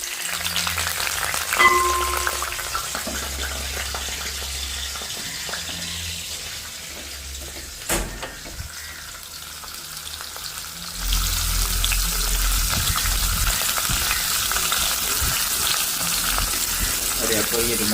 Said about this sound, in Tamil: வெங்காயம் உள்ளியும் கிடந்து பொரிக்குது.